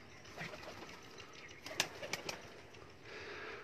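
Racing pigeons taking off from a rooftop flap their wings in a few quick bursts near the middle, faint soft cooing and outdoor ambience around them.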